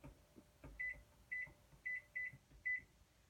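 An oven timer is set with a string of short electronic beeps, about six crisp chirps at uneven spacing, each with a faint button click, over quiet room tone and no talk.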